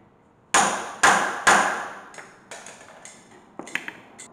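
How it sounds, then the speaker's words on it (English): A hammer strikes metal three times in quick succession with ringing pings, tapping a seal into a Toyota Hilux 4x4 front axle, followed by several lighter, quieter taps. "Take a hammer, a real hammer works best"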